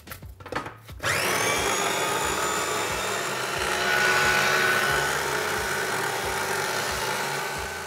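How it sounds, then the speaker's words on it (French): A kitchen blender purees small strawberry pieces, kicking on after a second of quiet into a loud, steady whir that continues to the end. "j'y mets des fraises en petits morceaux et on va mixer pour avoir une purée"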